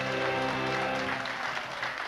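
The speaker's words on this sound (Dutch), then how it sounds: "Ik wil al een speciaal applaus vragen voor het jeugdkoor." An audience applauds for a youth choir at a carnival event, a dense steady clapping that fills the room, with faint tonal sound beneath it.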